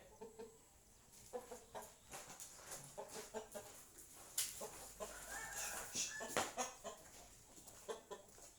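Chickens fighting and clucking on a farm, a run of short, fairly faint clucks and squawks with scuffling and flapping, growing busier and louder midway.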